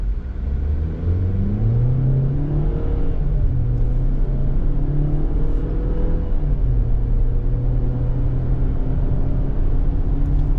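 A 2024 Chevrolet Equinox LT with a 1.5-liter turbo four-cylinder pulls hard under acceleration, its engine note rising in pitch and steady at a loud, sustained level, with rumbling drone throughout and no talking.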